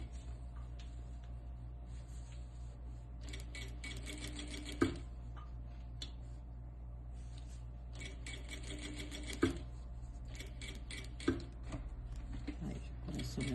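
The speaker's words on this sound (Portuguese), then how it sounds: "eu tenho que passar minha costura para deixar o vão do elástico" Sewing machine running in bursts while stitching the elastic channel on a cloth diaper, fast rhythmic mechanical ticking that starts and stops, close and fairly quiet, with occasional clicks between runs.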